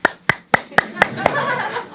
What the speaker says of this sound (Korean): 여러분 박수만 이렇게 치셔줍니까?